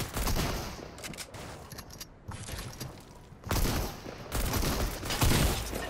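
Rapid bursts of shotgun fire in a Fortnite match crack out in dense, loud volleys. Brief pauses separate the clusters of shots, and no one speaks.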